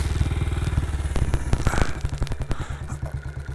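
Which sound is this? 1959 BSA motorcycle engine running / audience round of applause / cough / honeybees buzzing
1959 BSA motorcycle engine running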